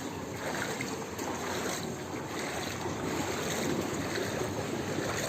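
Heavy rainwater floods over a road in the Dum Dum area of Kolkata with a continuous loud rushing wash that swells slightly toward the end, with no voices.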